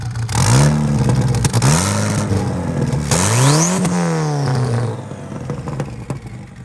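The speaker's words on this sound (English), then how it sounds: "The turbo's still turboing." A turbocharged four-cylinder Jeep engine revs hard several times, its pitch climbing and falling with each blip, and turbo whistle and spool sounds follow before it settles toward idle.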